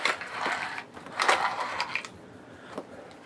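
Small metal parts rattle and clink close by as hands rummage through a box of nuts, bolts, screws and knobs, in a few quick bursts of jangling.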